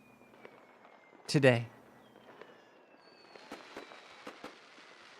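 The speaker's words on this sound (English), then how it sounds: "these fireworks are making me really feel patriotic, even though they're Chinese" Fireworks go off in one loud crackling burst, followed by several fainter, scattered pops and bangs farther away. Someone talks over them.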